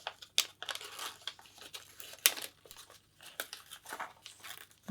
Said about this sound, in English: Trying to peel it off now.